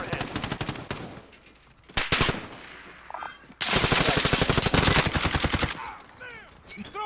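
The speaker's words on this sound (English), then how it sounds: "Where are they shooting from?" Rapid automatic gunfire from the video game Call of Duty Warzone, long loud bursts of machine-gun shots with brief pauses between them, fairly close.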